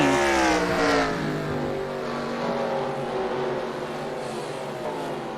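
Dirt track sprint cars race at the Knoxville Nationals, a loud continuous engine roar with layered revving as a pack of cars runs laps, steady and close throughout.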